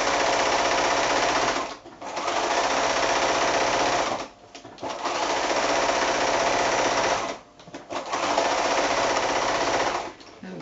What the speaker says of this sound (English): So I'm still sewing with just the smaller end of the tea towel in the machine